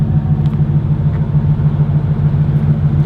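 A C5 Corvette drift car idles hot, its V8 giving a steady, loud low-pitched burble with an even pulsing rhythm throughout, close by and alone without voices.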